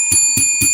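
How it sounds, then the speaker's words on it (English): A bright bell rings three times in quick even strokes, loud and close, with a sustained metallic ring between hits. "Let's ring the bell for Malamal."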